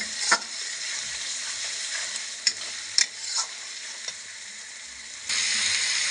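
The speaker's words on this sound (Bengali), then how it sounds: "এই একটু ধনিয়ার গুঁড়ো দিয়ে দিলাম মশলাটা ভালোভাবে কষিয়ে নেব" Spices with coriander powder stir-frying in a pan for a potato and meat curry, with a steady soft sizzle, a few scraping stirs and clinks, and louder hissing near the end.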